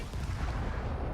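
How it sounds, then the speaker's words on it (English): A spaceship fires a missile in the video game Starfield, a single loud, broadband blast that fills the short moment with a dense rumbling roar. "Press G to fire a missile."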